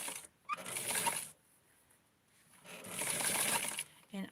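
A home sewing machine stitches small doll clothes, running in two separate bursts of rapid mechanical whirring with a quiet pause between them.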